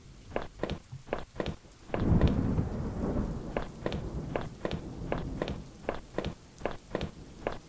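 A deep roll of thunder rumbles over steady rain in the video game Home while footsteps tread at an even pace throughout.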